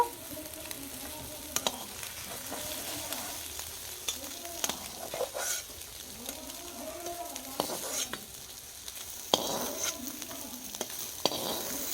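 Steamed egg pieces cooked with papaya sizzle softly in oil in a pan, with a spatula stirring and scraping in gentle, repeated strokes and occasional sharper clinks against the metal.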